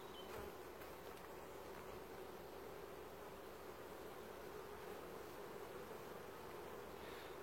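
Worker honeybees buzzing at the hive during a summer honey harvest, a faint, continuous insect hum with a hiss of noise, steady throughout with no voices.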